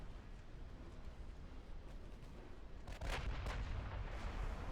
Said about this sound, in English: They did get torpedoes into the convoy.